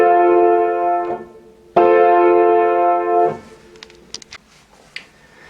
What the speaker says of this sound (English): Here is the triad chord for F.